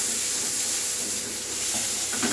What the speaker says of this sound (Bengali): আর একটু তেল দিয়ে দিলাম। টমেটোটা এবং কাঁচা লঙ্কা দিয়ে দিচ্ছি।